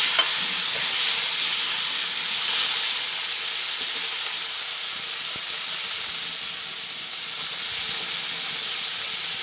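Cauliflower added to tomatoes frying in a pan sizzles with a loud, steady, dense hiss that holds throughout without pause, alone with no voices.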